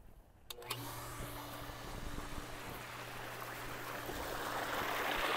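A swimming pool water pump switches on with a click and hum, then water starts flowing and splashing steadily, the rush building louder over several seconds while a low motor drone continues underneath.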